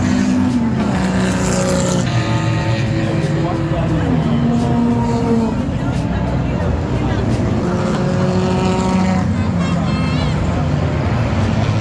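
Race cars at full throttle during the 24 Hours of Lemons endurance race at MSR Houston, with loud, continuous engine drone and shifting pitches as several cars run together, while a voice talks over the noise.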